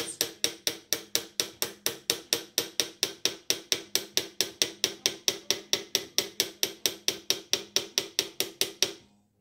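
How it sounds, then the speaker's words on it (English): Rapid, evenly spaced metal taps knocking a dent out of a brass trumpet bell, some thirty crisp close strikes in a steady rhythm over nine seconds, alone without speech. "You don't want to start hammering if it sounds hollow, you're just going to give yourself a whole bunch more dent work."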